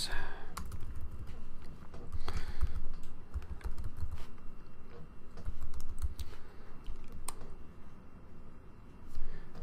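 Keys clatter in a fast, irregular stream on a computer keyboard during a session of modded Minecraft. The clicks are close and clear, with faint voice sounds underneath.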